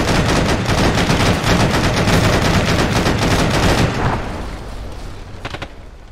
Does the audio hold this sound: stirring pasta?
no